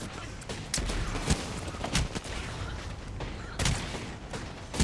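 Apex Legends battle with repeated gunfire bursts and heavy shots crackling over dense in-game noise, several sharp loud impacts standing out across the span.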